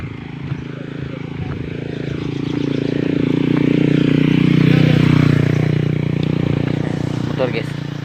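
A motorcycle engine rises and swells past on a rural provincial road, a steady low drone building to a peak mid-way and easing off, with voices talking over it.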